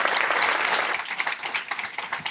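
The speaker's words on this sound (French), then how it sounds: "je veux vraiment un applaudissement fort pour l'association et la ville qui nous reçoit" An audience applauds at a lecture in Nîmes, a dense wash of clapping that thins in the second half into scattered individual claps.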